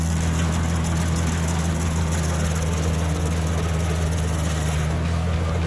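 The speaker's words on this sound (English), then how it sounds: "The excavator backs away, leaving deep track marks and a trail of diesel breath behind." A diesel excavator backing away after pulling out a tree stump, giving a steady, loud, low engine drone with a constant hum, unbroken for the whole stretch and with no speech.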